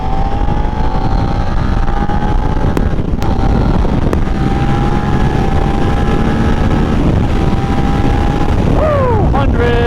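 A Suzuki SV650 motorcycle pulls hard in third gear on a highway at night. A steady, loud engine drone climbs in pitch, blended with heavy wind rush throughout.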